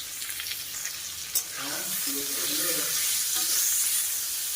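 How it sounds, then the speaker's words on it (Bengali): Bitter gourd and potatoes fry in a pan with a steady, bright sizzle, a sharp clatter near the start and stirring scrapes midway, with no voices over it. "উচ্ছেগুলো দেখো অনেকটা ভাজা হয়ে গেছে এবার আলুটাকে দিয়ে দেবো"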